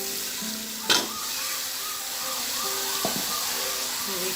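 Beef with nihari masala sizzling steadily in a pot, a close continuous hiss broken by a sharp clatter near the start and a softer utensil knock later.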